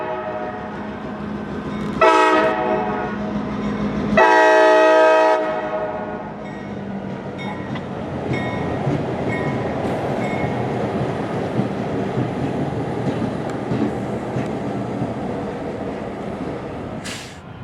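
A New York, Susquehanna & Western switcher running on leased CSX locomotives at Ridgefield Park sounds two loud horn blasts, then rolls past with a steady, heavy rumble of engines and rail cars that lasts to the end.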